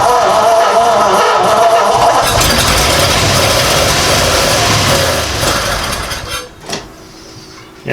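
A 1937 Ford V8-60 flathead engine in a Touring Sedan, fed with poured-in fuel, runs loud and rough near at hand for about six seconds, then sputters and dies with a few final coughs.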